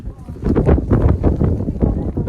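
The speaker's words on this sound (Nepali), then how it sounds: "हावाले चाहिँ उडाउनु पनि खोजेको छ हामीलाई हावा पनि चलेको छ" Steady, gusty wind on a cliffside path at Torquay buffets the microphone with a low, continuous rumble and rough flutter that never lets up.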